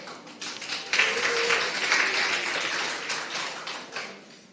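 An audience claps through a steady, even wash of applause at a company CEO's special lecture, moderately loud, lasting several seconds without speech.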